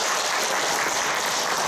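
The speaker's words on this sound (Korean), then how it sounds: "박수 부탁드립니다." Brief, dense applause from the audience at a panel discussion marking the centenary of the Korean Provisional Government, a steady hiss of many hands clapping at moderate volume.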